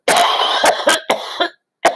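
A run of sharp coughs, four or five in quick succession, then a short pause and one more cough; loud and close.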